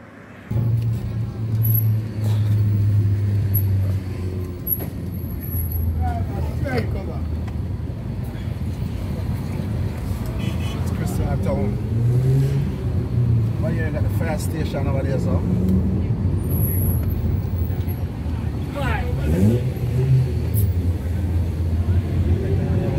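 A car on a road trip through the countryside heading into the town of Christiana, its engine rumbling steadily from inside the cabin for the whole stretch, with people talking over the drone.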